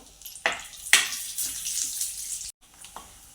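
Cashew and almond slices frying in hot ghee for carrot halwa give a steady, close hiss, broken by a couple of sharp clicks, before the sound cuts off abruptly.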